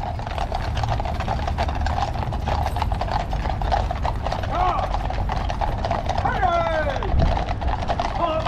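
Police horses' hooves clip-clop steadily on the street near Buckingham Palace, London, a continuous close rhythm over a busy crowd murmur, with voices and what may be a brief whinny.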